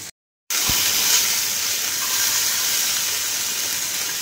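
Fish frying in a pan gives a steady, close hiss and sizzle that starts after a short silence and carries on evenly without any talk.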